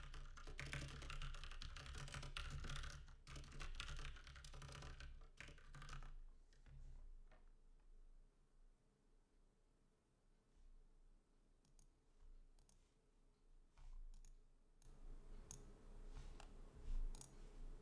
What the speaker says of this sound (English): deliberately turned it quieter because of the absolute mashing that is my keyboard